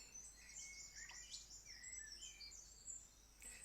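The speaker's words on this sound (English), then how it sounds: "let's get this bird song back on" Recorded bird song plays softly in the background, with light chirps and trills in a steady, faint stream and no talk.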